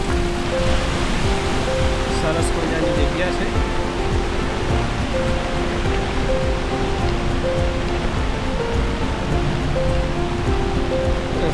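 Girmal waterfall in Dang roars as a loud, steady broadband rush throughout, with a person speaking briefly over it.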